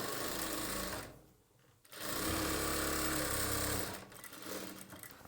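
Sewing machine stitching a half-inch hem on a chudidar bottom, a steady close-up mechanical whirr that pauses briefly partway through and then resumes, with no talking.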